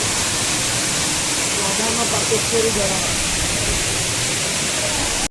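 Pradhan Pat waterfall in Deogarh, Odisha, roars steadily at close range, a dense unbroken rush of cold falling water filling the whole stretch, with faint voices briefly buried beneath it before an abrupt cut at the end.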